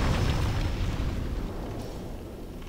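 A bomb goes off in the video game Demon's Souls, a loud, dense rumbling blast that fills the whole clip and slowly fades over a few seconds.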